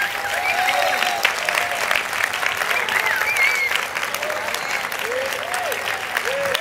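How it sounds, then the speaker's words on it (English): A church congregation at an evening service gives steady hand clapping, dense and continuous, with voices calling out and a few shouts audible above the clapping. "Give her a hand clap."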